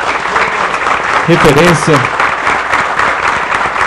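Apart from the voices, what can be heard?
audience applause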